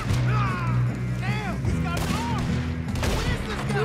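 Gunfire in a Red Dead Redemption 2 shootout, with repeated sharp shots and booming reports scattered throughout, mixed with a voice and music.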